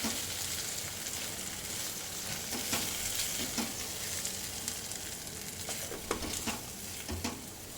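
Grated corn is stirred in a nonstick pan, a quiet, steady frying sizzle overlaid with irregular scraping and tapping stirs.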